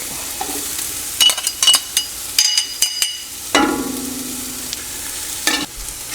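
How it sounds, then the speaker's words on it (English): Onions and garlic sizzle steadily in a hot pan while a utensil clatters and scrapes against the metal in irregular knocks, close by. "Onions are sauteed and soft now. I'm going to add the garlic."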